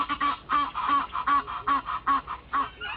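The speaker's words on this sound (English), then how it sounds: "The geese do their excitement display," During their excitement display, Egyptian geese in Africa honk in a steady, rhythmic series of loud, close calls, about two per second, with no talking.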